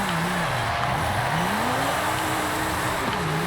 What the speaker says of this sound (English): It drifts fairly well.